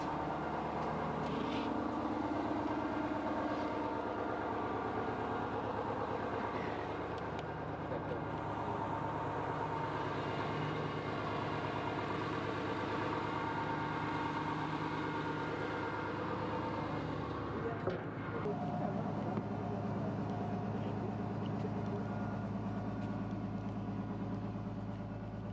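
Barge engine running in the engine room, a steady low diesel drone with constant humming tones close by, shifting slightly in character near the end as the listener moves around the machinery.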